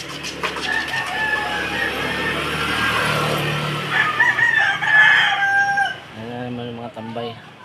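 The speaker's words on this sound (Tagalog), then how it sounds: "Exercise ang manok." Chickens cluck around a rooster that crows loudly and close, with a second crowing burst near the end, set against rustling yard ambience.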